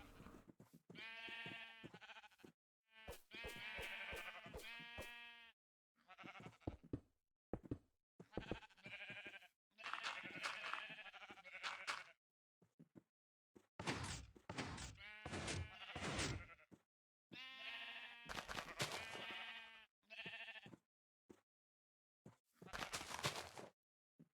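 Sheep bleating in Minecraft, a series of short, loud bleats repeating in irregular bursts with brief gaps between calls, with no other sounds.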